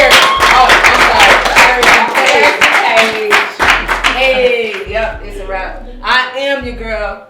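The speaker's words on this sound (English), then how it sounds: "Clap it up one time for Paige and Paris." A quick burst of hand clapping on a podcast set for two guests, loud and close, heard under a woman's continuous speech.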